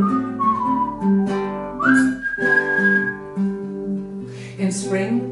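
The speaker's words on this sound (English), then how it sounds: "so the shepherd whistled gaily" A shepherd's cheerful tune is whistled close and clear as a melodic line of sustained and sliding notes, alternating with a sung voice.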